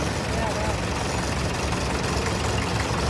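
A 1968 Massey 165 tractor engine runs at an outdoor steam and gas show parade, a continuous low rumbling drone amid broad crowd and outdoor noise, with a voice speaking over it.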